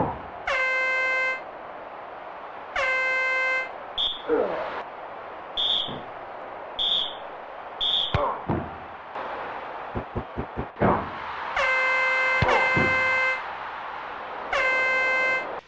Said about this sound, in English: What is with the constant barrage of air horns and whistles going off in the audience during this game?